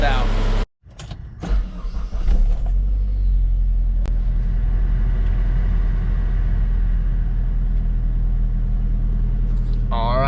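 A Saab engine rumbles steadily nearby after a short start-up clatter as the car is driven out of a garage, with a loud, continuous low drone throughout and some voices around it.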